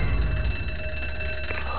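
An alarm rings in the zombie game ZombiU, a steady high electric bell tone running continuously over a dense background, with no talking.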